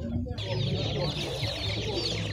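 Chickens and chicks cluck and cheep at an outdoor market, a busy mix of bird calls close by with crowd noise and talk in the background.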